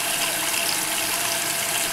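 White Westinghouse dishwasher filling, a steady close rush of flowing water with a bright hiss and faint pump whine, continuous and without pauses.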